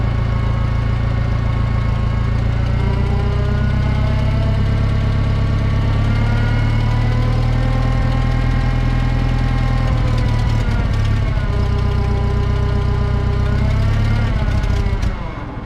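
A 1939 Ford 9N tractor engine runs steadily with a little choke, a loud close idle with even low-pitched firing that holds throughout and eases off only at the very end.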